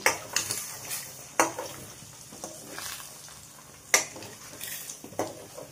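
A ladle gently mixes Aavakaya egg fried rice in a pan, producing close metallic scrapes and a few sharper clinks at irregular intervals over a soft background.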